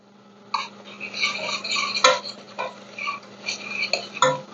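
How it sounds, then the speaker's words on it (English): Minced garlic stirred in a saucepan for a spaghetti sauce, producing repeated light metallic scrapes and taps of a utensil against the pan over a faint steady hum, close and fairly quiet. "Stir all of that, get it nice and fragrant."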